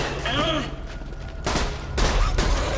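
Burst fire from Dahl guns in the video game Borderlands 2, rapid gunfire volleys in several clusters with loud in-game bursts, while players talk over the shooting.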